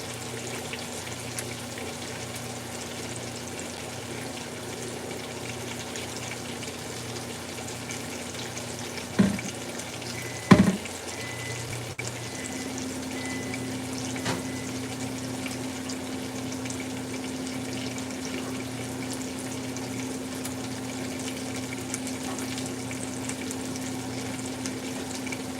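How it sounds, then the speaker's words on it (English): Scalding hot water runs in a steady hiss with a low hum underneath, broken by a couple of brief louder knocks partway through, continuous and moderately close with no talk. "Scalding hot water."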